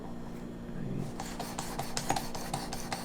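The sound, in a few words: sharpening a broadhead arrow tip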